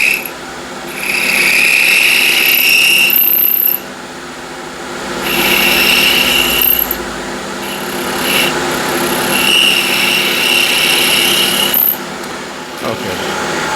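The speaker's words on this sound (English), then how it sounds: "Now I can use a skew as well." A skew chisel cuts wood turning on a lathe for an all-wood salt shaker, producing loud, close, whining shaving passes. Three or four strokes of a few seconds each are separated by quieter pauses of motor hum.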